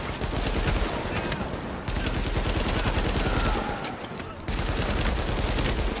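Sustained automatic turret gunfire in the video game Tom Clancy's The Division, a dense loud rattle of rapid shots with brief breaks around two and four and a half seconds, fairly close and continuous.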